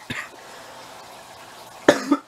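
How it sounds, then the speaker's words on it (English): Two sharp coughs, one near the start and a louder pair toward the end, close to the listener, with quiet room tone between them. "I was coughing"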